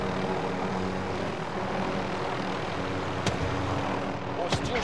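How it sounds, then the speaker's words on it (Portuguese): A helicopter flies overhead in the Call of Duty: Modern Warfare video game. Its rotor and engine drone steadily, with a few sharp clicks or shots near the end. "Você tá com esse helicóptero passeando?"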